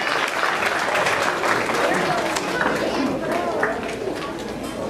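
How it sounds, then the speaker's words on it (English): A crowd applauds steadily for several seconds, dense and even clapping filling the room with some murmuring underneath. "Let's give one last round of applause"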